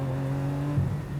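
Lamborghini Aventador Huber ERA 001 with a 6.5-litre naturally aspirated V12, heard as a brief, loud, close engine drone with a short blip partway through.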